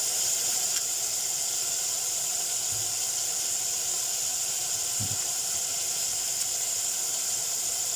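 A small knob of butter sizzles in a pan over a camp stove in a forest, producing a steady, even hiss with a few faint low bumps, no voices present.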